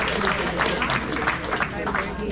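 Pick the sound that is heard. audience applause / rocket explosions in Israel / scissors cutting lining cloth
audience applause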